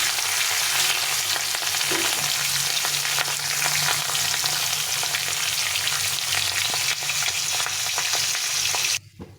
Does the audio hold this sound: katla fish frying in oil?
yes